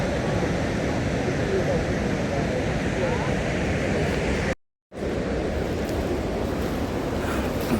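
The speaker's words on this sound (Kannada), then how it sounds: "ತುಂಬಾ ನೀರು ಸಹ ತುಂಬಾ ಜೋರಾಗಿ ಬರ್ತಾ ಇದೆ" Jog Falls near Sagara, Shivamogga, roars in the monsoon as a loud, dense, continuous rush of falling water, cut by a brief dropout midway before resuming at full strength.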